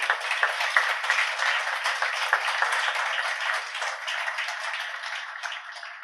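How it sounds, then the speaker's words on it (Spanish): A congregation applauds at a worship service, giving a dense, steady round of clapping with no talk that holds strong throughout and eases slightly toward the end. "Dale un fuerte aplauso al Señor."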